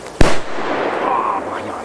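A red Corsair firecracker exploding, one sharp, loud bang followed by a long rumbling echo and background hiss, heard on its own without talk.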